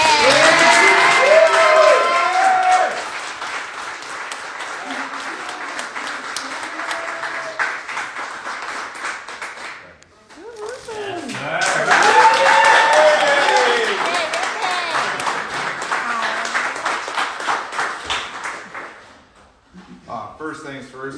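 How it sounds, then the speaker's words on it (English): An audience at a celebration gives loud applause and cheering with voices shouting over the clapping, dipping briefly, then swelling again before fading out. "Let's give him a big round of applause."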